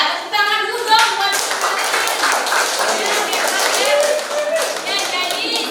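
Students in a chemistry classroom clap together, a loose cluster of close, sharp hand claps mixed with children's voices and chatter, fairly loud and continuing throughout.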